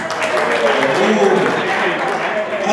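A live audience at a storytelling show claps to vote for Neil Richardson, giving sustained, even applause with voices mixed in throughout.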